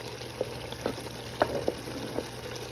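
Onions, garlic and tomatoes frying in a pan give a quiet, steady sizzle, broken by a few soft clicks and scrapes of stirring.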